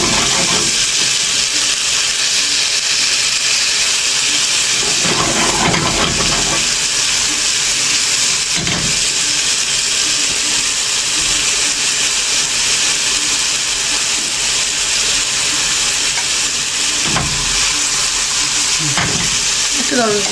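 Garlic sizzling in oil in a home kitchen pan, a steady loud hiss and crackle running without a break, with a few stirring scrapes and occasional louder spits.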